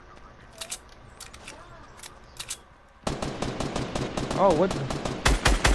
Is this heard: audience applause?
no